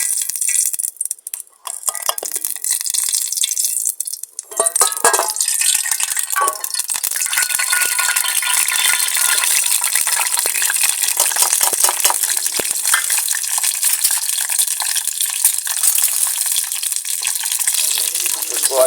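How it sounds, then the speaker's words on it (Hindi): Finely chopped onions hit hot oil in a pan and fry with a steady, bright sizzle that stays loud and continuous after a brief stir at the start, with no talking over it. "इसके बाद इसमें हम ऑनियन डाल देंगे जो हमने कटी हुई थी बारीक बारीक।"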